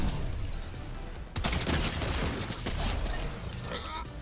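Bursts of gunfire from a weapon in the video game Fortnite crackle in rapid clusters, loud and dense, with gameplay noise underneath.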